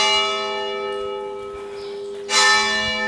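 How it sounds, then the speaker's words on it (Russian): Church bells in Spain strike the hour, their tones lingering and overlapping, with a fresh bright strike near the end. "Каждый час вот так у нас бьют колокола"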